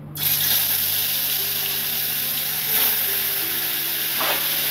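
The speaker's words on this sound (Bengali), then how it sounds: "তাহলে মাছগুলো আমার তেল মাখানো হয়ে গেছে, এবার ছাড়ছি।" Oil-coated boal fish slipping into hot oil, setting off a loud continuous sizzle and hiss that holds steady throughout, with small spits and pops, close up.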